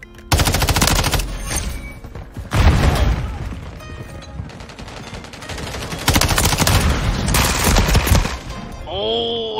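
Loud bursts of automatic rifle fire from an MTZ 556 in Call of Duty MW3, several long sustained volleys separated by brief pauses, close and dominant, ending with a short electronic tone.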